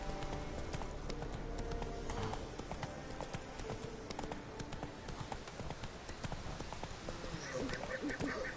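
Hooves of the horse Roach clip-clop in a steady trotting rhythm inside a video game, close and continuous beneath a busy layer of ambient game sound.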